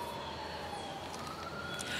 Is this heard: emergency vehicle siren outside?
yes